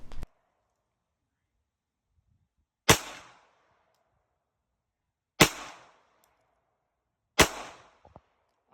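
A 9mm pistol fired at a shooting range, three loud, sharp gunshots spaced a few seconds apart, each with a short ringing decay, plus a faint click at the start.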